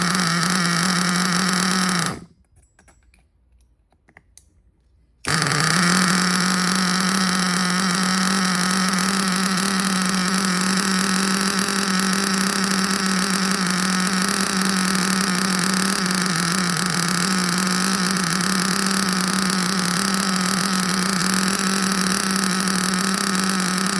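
A flooded Hobao Hyper ST nitro truggy engine running at a steady high-pitched drone, close and loud, cutting out for a few seconds early on before roaring back and holding a constant whine to the end.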